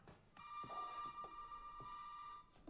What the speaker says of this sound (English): I'll answer the phone, Zoe.